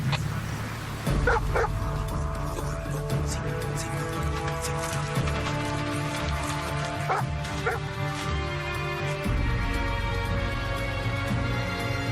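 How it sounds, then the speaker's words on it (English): Several search dogs bark and yip repeatedly near water against a droning, tonal background hum. "Bring the dogs down here to the water."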